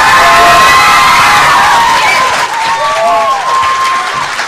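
Youth poetry slam audience at a Scottish regional heat applauding and cheering loudly after a high school team's performance, with whoops and shouts over sustained clapping that holds steady throughout.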